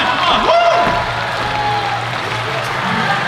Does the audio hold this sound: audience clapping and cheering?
yes